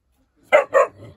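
Two quick, loud dog barks in a row close by, followed by a softer low trailing sound, with no talking.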